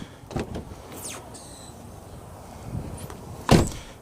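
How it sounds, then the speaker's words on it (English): A 2006 Kia Sedona minivan's repaired sliding door runs open with a motorized whir, preceded by handle clicks and latch clunks and ending in a sharp close-up thud, heard nearby without talk. "Door opens, functions normally."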